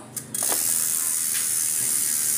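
A Rhino mountain bike's freehub ratchets in a fast, steady, continuous clicking, close and loud, after a couple of brief knocks at the start.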